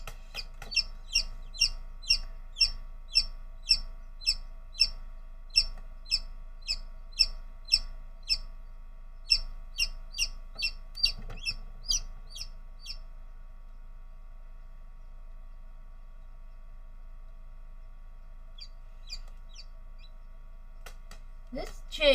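Newly hatched chicks of mixed homegrown chickens peep inside a Nurture Right 360 incubator, a steady run of high, evenly spaced chirps for about thirteen seconds before trailing off into near quiet with a few scattered peeps.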